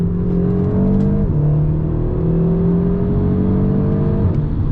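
Seat Leon Cupra 300hp engine droning loud and close under load, with two quick DSG gear changes marked by brief dips and jumps in engine pitch, no talking.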